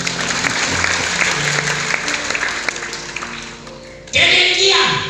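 Congregation clapping during a Christmas sermon in an Indonesian church, a busy, steady round of hands with talk over it, cut off after about four seconds by a louder burst of voice or amplified sound.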